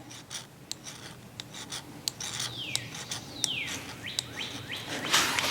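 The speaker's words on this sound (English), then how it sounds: "We're going to take our ferro rod. We're going to scrape real slowly, some shavings down." A ferro rod is scraped slowly to shave off fine metal flakes for tinder. There are a series of short, sharp rasping strokes with a bright sliding squeal on several of them, close up, with a faint background of chirping birds.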